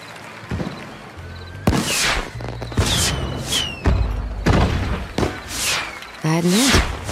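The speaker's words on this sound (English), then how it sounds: "Looks like the fireworks crew lost the schedule." Fireworks bursting in the Western game Desperados 3, a series of loud separate booms with crackling tails, spaced a second or so apart, with voices talking between them.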